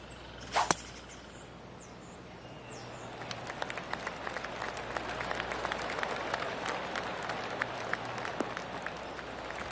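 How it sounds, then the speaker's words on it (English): Scattered light golf clapping from a distant crowd in the video game PGA Tour 2K25, a steady patter of polite applause over a soft ambient hiss, with one sharp crack near the start. "I can hear the golf claps around the course."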